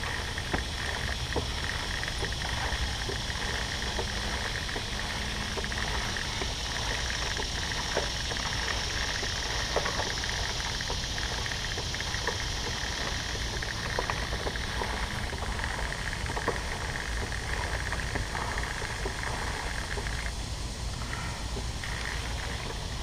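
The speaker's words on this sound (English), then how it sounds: "And you want to scrub it real good." Brush scrubbing the chain of a Kawasaki Ninja 300 or 400 motorcycle while the rear tire is spun, giving a steady, dense wet swishing hiss that runs throughout at even loudness.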